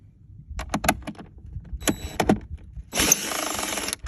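A few clicks and knocks, then a short burst of a small power drill whirring for about a second at close range, during repair work on a 2008 Mercedes-Benz S550 W221.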